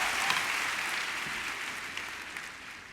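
Congregation at a Spanish-language church service applauding together, a steady dense wash of clapping that holds evenly for the full stretch before easing slightly at the end, with no voices over it.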